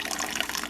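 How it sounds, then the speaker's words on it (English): Hot tap water pours into ice cube trays, a short, close, bubbly splashing stream with no talk. "we'll fill up our water trays with hot water"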